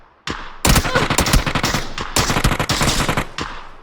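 Rapid automatic gunfire in the online shooter PUBG on the Miramar map, loud dense bursts of close shots firing almost continuously for several seconds with brief gaps between volleys.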